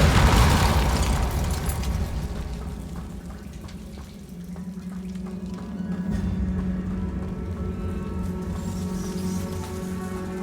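A Repulso spell blast goes off in Hogwarts Legacy: a loud, broad whooshing burst at the start that fades, then a steady low rumble with a sustained tone underneath, and no talking.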